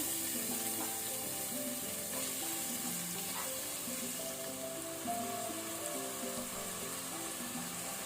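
Onions frying in a pan over a medium flame for a mutton masala, a steady close sizzle that runs the whole time with no talking.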